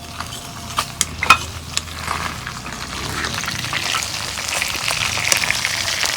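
Rupchanda fish frying in a little oil in a pan, a steady close crackling sizzle that builds slightly over time, with a few sharp pops and spatters near the start.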